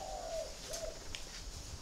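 Spotted dove cooing, faint soft coos at a distance against background noise, with brief higher whistling tones.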